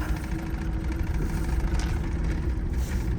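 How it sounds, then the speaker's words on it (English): A Ford Mustang engine idles steadily nearby with a possible exhaust manifold tick, a continuous, even rumble with no voices. "when you hear that manifold tick"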